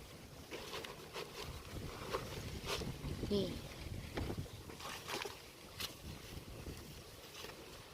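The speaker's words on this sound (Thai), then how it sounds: "ลมแรงมากเลยค่ะ" Strong wind blows outdoors while sweet potatoes are planted in soil, a continuous rumbling gust buffeting the microphone with uneven surges.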